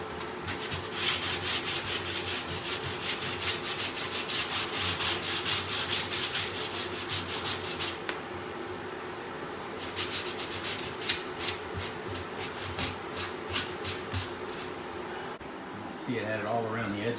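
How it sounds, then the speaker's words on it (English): Sanding away leftover laminate glue on a mobile home bathroom cabinet door: steady, close rasping strokes in long runs, broken by a short pause near the middle and ending with a brief scrape. "I'm gonna sand this one here."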